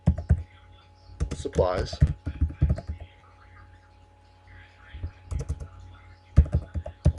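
Quick bursts of typing on a computer keyboard while entering labels into an Excel spreadsheet, clattering in short runs between pauses, with a person talking over parts of it.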